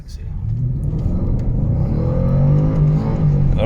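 Supercharged Jaguar XFR V8 accelerating hard in second gear with its wheels spinning, a loud, steady engine roar building throughout under continuous talk inside the car.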